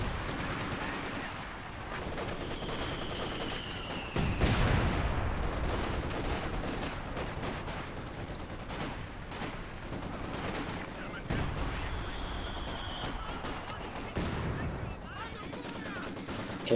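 Howitzer artillery fire in a World War II tank strategy game, landing near the Axis base: heavy booming blasts at about 4 and 11.5 seconds over steady gunfire and battle noise, with a whistling incoming shell before each impact.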